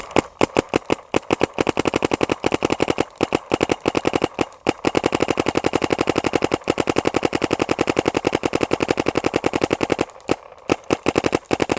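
A Planet Eclipse Etha 3 paintball marker fires rapid bursts of sharp, loud pops in quick succession, with short pauses between strings of shots and no talking.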